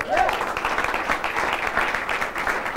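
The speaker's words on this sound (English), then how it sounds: "we got to give him a round of applause" A brief burst of steady audience applause at an Ignite-style entrepreneur center talk, dense clapping throughout with no words spoken.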